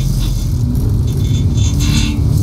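A fast car at the limit on a wet, slippery AMG tyre test track, heard as a steady, loud low engine and road rumble with broadband tyre and spray hiss, continuous and close throughout.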